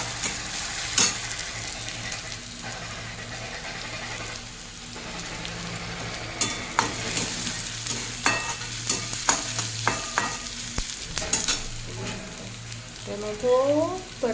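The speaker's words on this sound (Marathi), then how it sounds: "टोमॅटो पण चांगलं परतून घ्यायचं याच्यामध्ये" Chopped tomatoes sauté in a pan for street-style masala Maggi, a steady crackling sizzle with frequent spatula scrapes and taps, close by, with no one talking.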